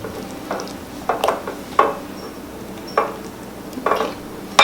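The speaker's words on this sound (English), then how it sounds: "I'm gonna stir it up." Mushroom cheesesteak filling being stirred in a pan, with several scattered utensil scrapes and clanks against the cookware over a faint sizzle, fairly close and without talk.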